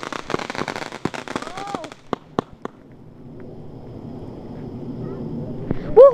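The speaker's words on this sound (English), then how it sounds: "Oh, look over there. Oh, people are doing fireworks." Fireworks crackle and pop outdoors at a 4th of July celebration, with a burst of sharp bangs in the first seconds tapering to scattered reports, followed by wind noise and distant rumble; a voice squeals near the end.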